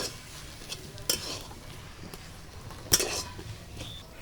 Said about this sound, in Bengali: সব কিছু আবারও ভালো করে নাড়াচাড়া করে মিশিয়ে নেব